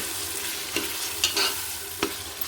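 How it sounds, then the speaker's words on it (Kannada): Potatoes, beans, fresh green peas and two tomatoes are stirred in a pan and fry softly. Quiet scrapes come a few times over a low, steady sizzle, with no one talking. "ಎಲ್ಲ ತರಕಾರಿಗಳನ್ನ ಚೆನ್ನಾಗಿ ಮಿಕ್ಸ್ ಮಾಡ್ಕೊಂಬಿಡೋಣ."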